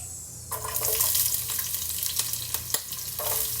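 Onion dropped into hot oil for squid adobo: a sudden close sizzle bursts up and holds steady, with a few sharp clicks of a utensil against the pan.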